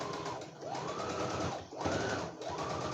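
A domestic sewing machine running a reverse stitch while a presser foot seams a small notebook cover near a pocket: steady, loud, close motor whir with rising and falling speed sweeps in three bursts, no talking.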